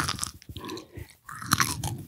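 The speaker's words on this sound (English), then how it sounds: "I personally really like chewing noises." Loud, close chewing with wet crunching and biting sounds, steady and continuous with a brief pause midway, heard alone without talk.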